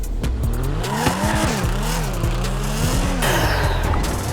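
A Nissan GT-R R35 with a turbo engine in the GTA 5 video game, revving and shifting with wavering engine tones and bursts of tire squeal, loud and continuous throughout.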